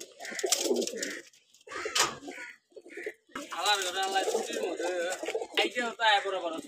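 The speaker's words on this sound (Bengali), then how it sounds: "এই যে এখানে নরগুলা ডাকাডাকি করছে।" Male pigeons, cocks in a racing loft, coo and call repeatedly at close range, their throaty rolling notes interleaved with frequent nearby speech from people talking over them.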